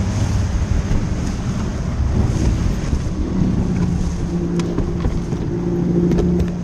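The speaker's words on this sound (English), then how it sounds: "leaving his boat spinning wildly with its engine still running at full power" A runaway fishing boat spins on open water with its outboard engine still running at full power, a steady loud motor drone mixed with wind buffeting and splashing waves throughout.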